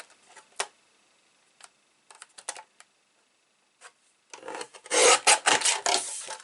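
A paper trimmer slices through cardstock during card-making, giving a few faint scattered ticks and scrapes before a loud, broad rasping cut and slide near the end, close by with no talking.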